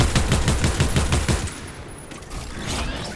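Rapid bursts of automatic gunfire from the G gun in a shooter video game, a dense rattling volley for about a second and a half, then fading to softer scattered shots and ambient noise.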